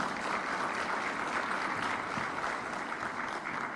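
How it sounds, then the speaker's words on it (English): Sustained crowd applause at the 30th OAFLAD General Assembly in Addis Ababa, Ethiopia, steady clapping from many hands, fairly distant and even throughout. "give a warm round of applause"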